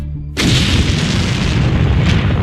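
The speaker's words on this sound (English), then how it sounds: "Back-to-back explosions hit the capital Damascus early on Friday." A powerful explosion in Damascus, Syria, bursts in suddenly after a brief moment of low rumble, then leaves a loud, sustained roaring boom and rumbling debris that fills the rest of the moment.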